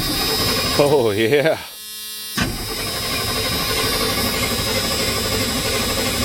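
A 1983 Chevy truck with a 454 engine cranks over in a steady, continuous drone, close and fairly loud, after a brief spoken exclamation and a short pause.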